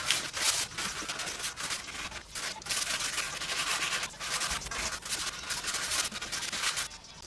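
Coarse sandpaper scrubbing off old, bubbling paint in steady back-and-forth strokes, a loud, close rasping that pauses briefly between passes and has no talking over it.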